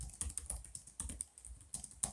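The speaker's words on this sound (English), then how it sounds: "It has good key travels and feedback. Individual keys need a little more actuation force. As a result, the typing experience is much more pleasant and joyful to type on" Keys clatter on a Dell XPS 15 9500 laptop keyboard in quick, uneven bursts of close, crisp taps with brief pauses between them, heard alone.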